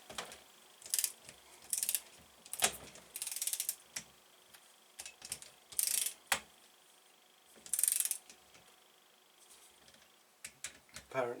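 A ratchet clicks in bursts as it tightens bolts on a Rieju RR50 70cc AM6 engine rebuild, short quick runs of ratcheting separated by pauses, close and clear.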